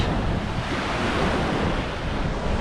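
Continuous rush of sea waves washing onto a beach in Busan, South Korea, with wind buffeting the microphone and no voices.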